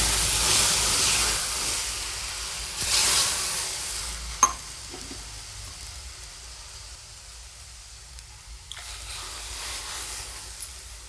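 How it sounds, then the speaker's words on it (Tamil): Milk poured into a hot kadai gives a broad sizzling hiss that flares at the start and again around three seconds, with a sharp clink at four seconds before settling into a quieter steady bubbling sizzle. "இப்போ இதே கடையில் ரெண்டு டம்ளர் பால் ஊற்றிக்கிறேன்"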